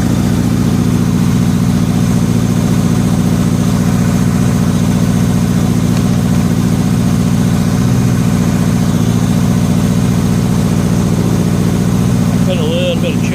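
A 1985 Honda Gold Wing GL1200 Aspencade motorcycle, a barn find that sat for 28 years, idling with a loud, steady low drone that holds even throughout, with a brief higher whine near the end.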